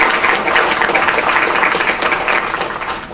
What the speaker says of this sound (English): Let's just clap for him.